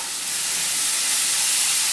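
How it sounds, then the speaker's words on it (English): Rabbit meat frying in a pan, a steady close sizzle and hiss that rises slightly in loudness, with no talking. "Continue to fry the bunny."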